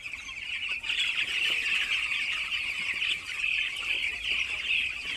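Eleven-day-old chickens in a poultry farm shed, a dense steady chorus of high peeping and cheeping from many chicks, moderately loud and continuous without pause.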